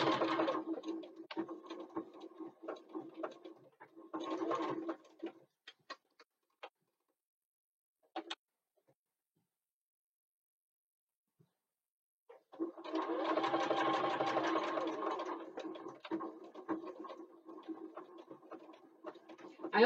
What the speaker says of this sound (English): So we sew down the short ends, 1/4 inch seam allowance.